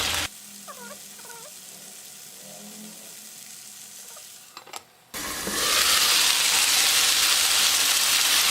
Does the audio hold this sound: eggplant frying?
yes